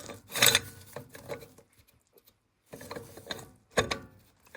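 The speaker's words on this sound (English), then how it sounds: "I'm going to grab my socket again, and I'm going to turn this to where it's snug." A socket wrench ratchet snugs a nut on the rear brake of a 2001 International truck, giving close, clicking bursts in two separate runs split by a silent pause, with no talk.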